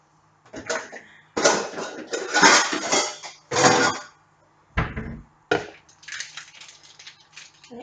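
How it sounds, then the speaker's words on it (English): Ceramic bowl clattering and knocking against other dishes as it is pulled from a kitchen cupboard, several close, loud bursts of clinking with short pauses between. "I'm just going to grab a bowl."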